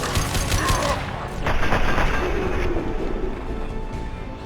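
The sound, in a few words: high impact gunshot in the video game Mass Effect 2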